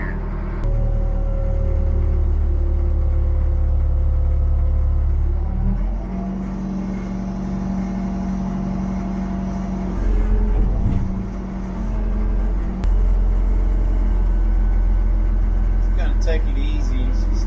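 A cold machine engine runs steadily at a low, rumbling idle close by, with a brief dip in load midway and faint clanks near the end.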